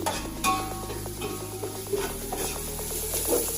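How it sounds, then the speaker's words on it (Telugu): Tomatoes being stirred into ginger-garlic paste in a pan for chicken dum biryani, a steady scraping stir with faint sizzling, close and fairly quiet, with no talking. "అడగట్టుకుండా కలుపుకోవాలి."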